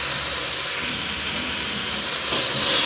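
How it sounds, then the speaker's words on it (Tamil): Chopped onion and tomato sauté in hot oil in a pan, giving a continuous close steamy hiss that swells slightly near the end, heard alone without speech. "தக்காளியை நல்லா வதக்கிக்கலாம்."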